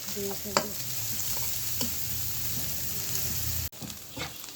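Chicken, onions and green chillies fry and sizzle in a pan while a utensil stirs and scrapes with occasional clacks, the sizzling briefly cutting out near the end.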